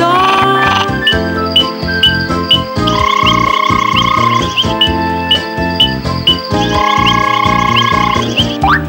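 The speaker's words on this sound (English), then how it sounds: "the frogs are here to make their froggy sound" Frogs call in a bright, busy chorus of repeated croaks and trills, loud and continuous, layered with tinkling tones in a musical rhythm.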